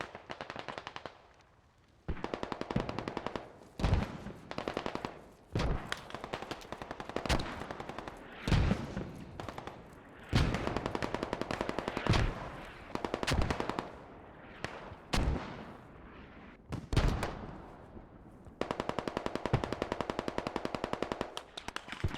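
A heavy mortar barrage in the video game Squad lands as a long run of loud, sharp blasts and rapid bursts over more than twenty seconds, with dense gunfire mixed in and no talking.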